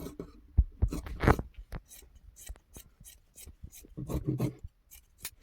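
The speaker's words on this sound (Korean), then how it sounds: "여기를 이렇게 잘라주세요" Scissors snip through fabric at the rolled hem of a circular-skirt dress being cut down, producing a series of close, crisp cuts and rustles in irregular rhythm with no talking.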